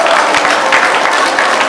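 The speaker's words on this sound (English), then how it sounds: "Give them a big round of applause." A dense burst of applause for senior beauty pageant winners, many hands clapping loudly and continuously, with a hint of crowd noise behind it.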